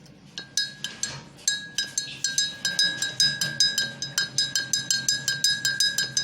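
A spoon clinks against a glass while sugar powder is stirred into a mango-flavored drink, making close, bright, regular chimes that quicken into a steady stirring rhythm.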